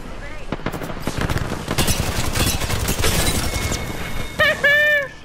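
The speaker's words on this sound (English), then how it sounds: "Opening fire." Rapid video game gunfire, dense bursts of shots and sharp cracks filling several seconds at close range, ending with a few bright electronic tones.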